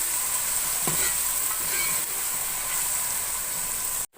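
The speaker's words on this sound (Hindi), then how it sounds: "2 टीस्पून लहसुन का पेस्ट शामिल करूँगी। अब लहसुन को थोड़ी देर भून लेंगे।" Garlic paste sizzles steadily in a pan with browned onions, a continuous bright frying hiss with a few stirring scrapes, close and alone.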